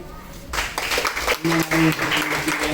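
Loud applause breaks out at a family gathering, a broad wash of clapping that runs steadily to the end with voices mixed in.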